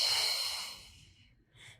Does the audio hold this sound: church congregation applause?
no